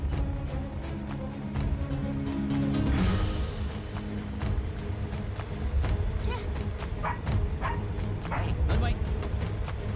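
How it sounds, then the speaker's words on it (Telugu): A dog barks and yips near a stopped bus in a dubbed family film scene, with the sharp barks set against a steady, busy background and voices. "బస్ ఆపుకుంటా కుక్క అరుస్తోంది."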